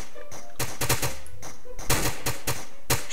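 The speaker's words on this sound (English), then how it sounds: "I'm gonna place another sniper guy here. I'm assuming his shots are pretty deadly." Rapid gunfire from a sniper unit in a tower defense video game, with bursts of sharp shots in quick clusters, loud and close, mixed with other game effects and no talk.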